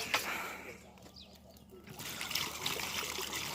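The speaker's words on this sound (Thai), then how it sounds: "จากนั้นก็ เอาน้ำเติมลงไปนะครับ" Water poured into a 20-litre bucket over a mesh screen, a steady trickling and splashing stream that grows fuller after the first couple of seconds, close by with no talk.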